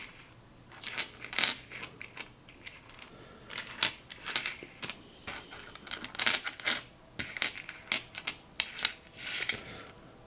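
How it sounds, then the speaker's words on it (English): A large pile of Chessex six-sided dice clatters and clicks as they are sorted and pushed apart, a dense run of sharp plastic knocks that keeps going close to the microphone with no talking. "when I'm done separating these dice here"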